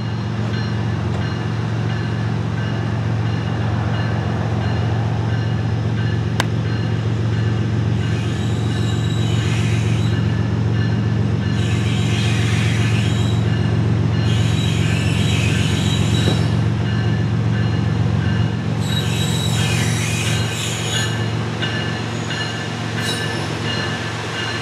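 A CSX westbound freight train rolling past, a continuous loud rumble of wheels on rails with repeated bursts of high metallic wheel squeal throughout.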